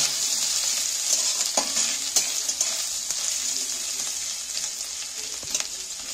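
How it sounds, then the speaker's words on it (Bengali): Small pieces of chopped coconut fry in hot oil for a Kolkata vegetable chop, giving a steady loud sizzle broken by occasional stirring scrapes and clicks. "সেই নারকেল কাটাটা আমি তেলের মধ্যে তুলে দিচ্ছি। নারকেলগুলো একটু হালকা করে ভেজে নেব।"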